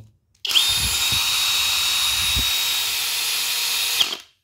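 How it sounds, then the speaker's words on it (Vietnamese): A Flex 24V cordless drill with a 5Ah battery, sold for heavy drilling and air-conditioner core boring, whirs steadily at high speed for about four seconds, loud and close, with a brief spin-up and wind-down and no talk. "con khoan này là cực khỏe dành cho anh em nào mà chuyên rút lõi điều hòa hoặc là anh em nào mà chuyên khoan nặng"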